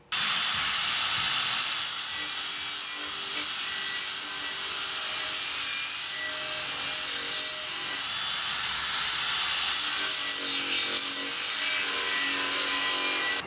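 A Makita 18V cordless belt sander grinds down an old, rough weld, a loud, steady abrasive hiss and rasp that holds almost unbroken for the whole stretch, with no talking over it.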